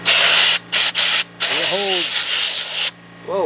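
Harbor Freight portable sand blaster gun spraying baking soda, loud hissing blasts in three short bursts and then one longer one that cuts off, with a voice breaking in between bursts.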